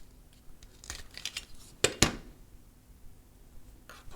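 Wire for an FM microphone kit is snipped with cutters, giving a few faint clicks and then two sharp, close snips in quick succession against a quiet background.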